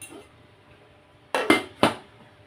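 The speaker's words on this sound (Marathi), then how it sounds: "ही कढई अशी आहे आणि तिच्यावर हे असं काचेचं झाकण आलेलं आहे" A steel triply kadai and its glass lid are handled, giving three quick close metallic clanks in succession after a quiet stretch.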